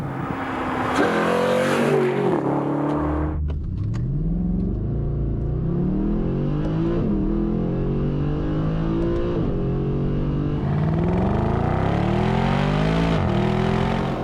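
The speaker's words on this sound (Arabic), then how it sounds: "نسمعكم صوت ال V8" A modified Brabus Mercedes SLS AMG V8 engine revs hard and repeatedly, its loud growl climbing and falling in pitch through several throttle blips, no voices.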